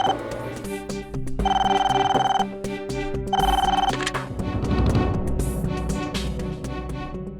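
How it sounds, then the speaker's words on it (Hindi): A telephone rings in repeated electronic bursts, two clear rings with pauses, over background music and ambient noise. "फोन उठाओ"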